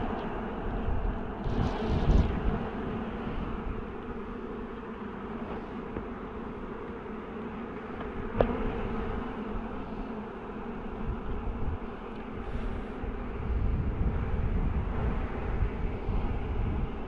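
Honey bees from an opened hive, a newly made split, drone in a dense, continuous buzz around the microphone for the whole stretch, with light wind noise and an occasional sharp click from handling the frames.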